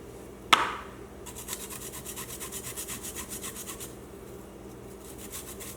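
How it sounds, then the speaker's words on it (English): Ginger being minced on a handheld zester: after a sharp initial knock, a steady run of quick rhythmic rasping strokes, close and fairly quiet, with no talking. "now we mince the ginger. Take your trusty zester"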